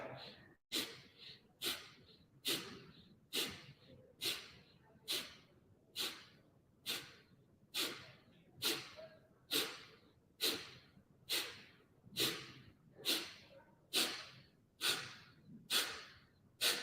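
Powerful rhythmic breaths from a yoga breathing exercise, about twenty forceful exhales in a steady, evenly spaced pattern, close and clear with soft inhales between.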